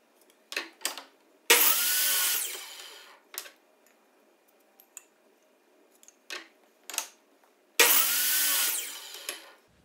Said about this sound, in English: Now repeat those steps and cut 2 3 1/4-inch boards.